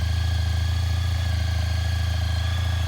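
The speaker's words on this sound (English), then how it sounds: "The bike hasn't been running about 24 hours. And that's how it always starts, hot or cold." A 2003 Honda ST1300 ABS motorcycle engine idles close by with a smooth, even, low throbbing pulse, steady and loud throughout.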